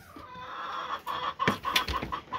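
Several hens, part of a flock of about fifteen, cluck in short, uneven bursts close by, their calls overlapping in a busy farmyard chatter.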